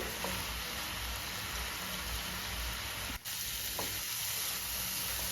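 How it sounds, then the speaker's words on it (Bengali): Khoya being stirred into carrot halwa in a pan over a gas flame, a steady frying sizzle and hiss with a couple of soft utensil scrapes, no talking. "এবার আমি এতে খোয়াটা দিয়ে দেবো। খোয়াটাকে সাথে ভালো করে মিশিয়ে নেব।"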